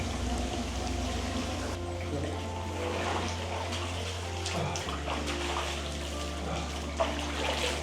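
Fresh water flows steadily from a small stream, a continuous close wash of rushing and splashing with a low hum beneath it that shifts partway through.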